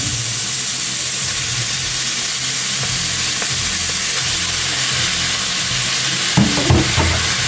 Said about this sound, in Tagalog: Wala mantika at mainit na rin yan. Ilalagay natin yung pork.